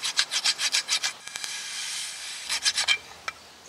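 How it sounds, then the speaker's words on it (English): A hand file scrapes scale off a 2015 Honda Civic brake caliper bracket. A quick run of about seven rhythmic rasping strokes comes first, then a short pause, then a few more strokes, close up and with no talking. "we're going to take a file that's especially made for this, and we're going to get that scaling off of there"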